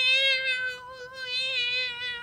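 A cartoon cat in Postman Pat gives a sustained, high, tonal meow lasting about two seconds, rising and falling slightly, clear and close with no talk over it.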